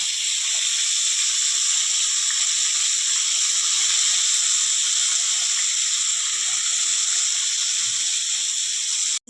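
Whole lote (Bombay duck) fish fry in hot oil with onion and garlic, giving a steady, even sizzling hiss close to the pan that continues unbroken until a brief clatter at the end.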